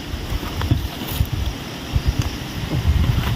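Strong wind buffets the microphone in low, rumbling gusts, with a steady roar of air and no voices.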